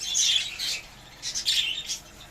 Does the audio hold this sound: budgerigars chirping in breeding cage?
yes